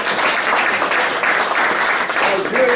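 An audience at an association meeting in Rome claps for Nigeria, a sustained wash of applause from many hands, loud and unbroken across the whole stretch.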